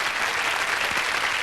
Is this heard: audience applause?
yes